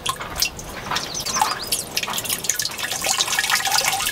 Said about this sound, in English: you'll start to hear it making its way through and dripping